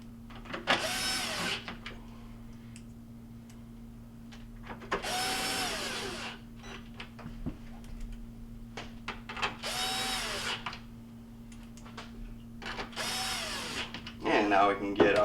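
A power drill drives the four mounting bolts back into a GE built-in cooktop. Four separate whirring bursts come close and moderately loud, with a steady low hum and light handling noise between them.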